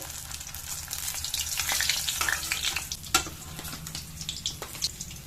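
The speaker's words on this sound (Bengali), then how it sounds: "আর যে দু পিস মাছ আছে ওই মাছ দুটোও ভেজে নেব" Pieces of rohu fish frying in hot oil crackle and sizzle continuously, with scattered pops and a louder spatter partway through.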